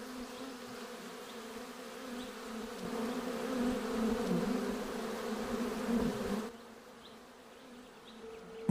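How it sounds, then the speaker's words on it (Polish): Wild bees living in a tree hollow buzz in a steady, continuous drone that swells slightly midway and then drops softer near the end, with no voices. "Dziuple drzew często są zamieszkane przez dzikie pszczoły."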